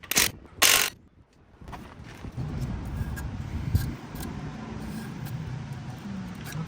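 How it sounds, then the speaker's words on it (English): A car jack raising the front of an old Chevy truck, giving a steady ratcheting, grinding mechanical noise that runs on for several seconds after a few sharp knocks at the start, with no talking. "We're going to start by jacking up the front"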